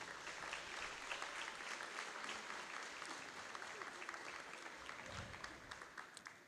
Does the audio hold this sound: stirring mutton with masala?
no